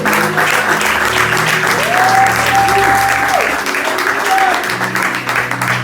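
A church congregation at a Sunday service applauds, dense continuous clapping filling the room, with voices and a sustained musical tone rising over it.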